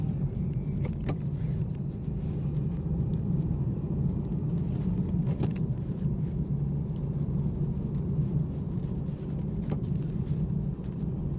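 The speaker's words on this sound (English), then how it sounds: "I'm just going to stick to the normal B58 tone, the crisp tone that it has, the deep tone" A BMW B58 inline-six fitted with a carbon manual shifter drones steadily and deeply while driving, with cabin road rumble throughout and a few faint clicks and taps over the top.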